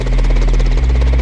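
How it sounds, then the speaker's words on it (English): Helicopter rotor noise, loud and close, with a heavy low thudding that beats in a fast, steady rhythm over a constant engine drone. "a helicopter"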